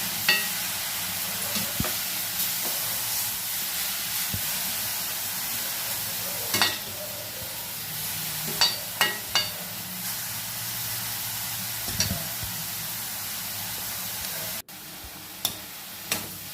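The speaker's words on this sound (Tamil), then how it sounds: "நல்லா பச்சை வாசனை போகிற அளவுக்கு நல்லா வதக்கிக்கலாம்" Grated carrots sautéing in a pan for carrot halwa: a steady soft sizzle and hiss runs throughout, broken by occasional louder scrapes and clacks of stirring, with no talking.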